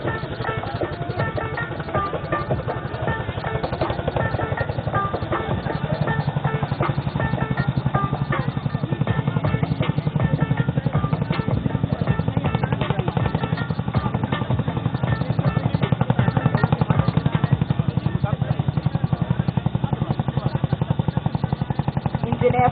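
Two Indian Air Force Chinook twin-rotor helicopters flying at an Air Force Day air show in Chandigarh, a continuous loud rhythmic rotor thump and engine drone carrying on throughout, an announcer's voice faintly present.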